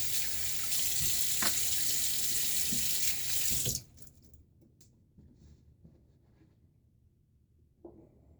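A tap runs with a steady broadband hiss for about four seconds, wetting a shaving brush, then shuts off. Quiet room noise and a few small knocks follow.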